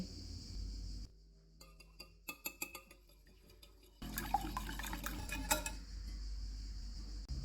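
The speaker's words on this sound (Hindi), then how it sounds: "एक बाउल में अंडे डालेंगे और इनको फेंट लेंगे" Two eggs are beaten in a bowl, producing bursts of rapid, close clicking and tapping against the bowl, with a brief quiet pause between the two rounds of whisking.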